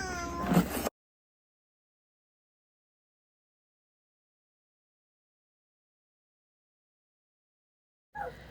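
A cat gives a short meow near the start, close and clear, followed by a long silence and a brief faint sound at the very end.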